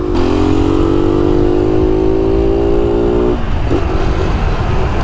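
A Rex motorcycle with its air filter cover removed revs close by, a sustained, loud buzzing engine drone that holds steady before dropping and wavering near the end, with no talking.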